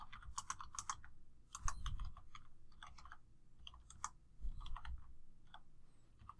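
Typing on a computer keyboard, a quiet series of quick key clicks in short bursts separated by brief pauses, close and alone.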